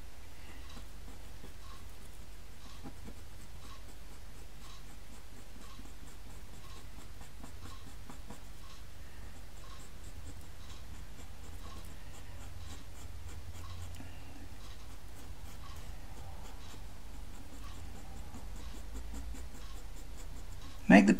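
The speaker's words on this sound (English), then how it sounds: "Make the pencil stroke follow the contours, or the way the timber lines would run on the boat." Soft, quiet scratching of dark brown pastel pencil strokes on paper while drawing a wooden boat, a steady faint rasp throughout with a brief louder knock at the end.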